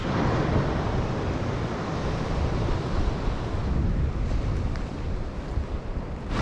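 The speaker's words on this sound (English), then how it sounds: "We've had some real breakers coming on that rock out by there." Ocean waves breaking on rocks at a beach in Porto Covo, Portugal, a loud, continuous rushing wash of surf mixed with buffeting wind noise, no voices.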